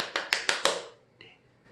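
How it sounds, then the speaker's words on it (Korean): A children's church worship congregation claps in praise: four sharp, evenly spaced claps in quick unison, ringing briefly in the room, then a faint trailing clap or two as it dies away. "영광의 박수!"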